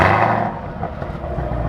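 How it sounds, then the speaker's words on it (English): A 2020 Chevy Camaro ZL1 1LE fires up by remote start, a loud burst of engine noise at first that settles into a rumbling idle, close by with no talking. "I'll do the remote start for you guys so you can hear what that sounds like."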